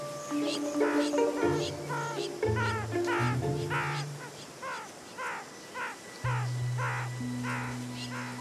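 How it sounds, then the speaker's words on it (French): A crowned lapwing gives repeated sharp, strident calls in quick bursts, fairly close, over steady low sustained tones. "ce vanneau couronné entend bien protéger son territoire"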